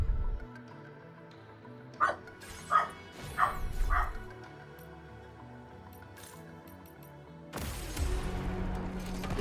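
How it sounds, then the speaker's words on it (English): A dog in the game Death Stranding 2 barks four times in quick succession, moderately loud and close, over a soft ambient game soundscape, followed by quiet background and then a louder rushing swell. "Dog."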